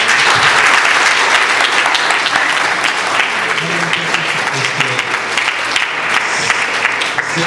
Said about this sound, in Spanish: Ahora yo quisiera un fuerte aplauso para los muchachos, por favor.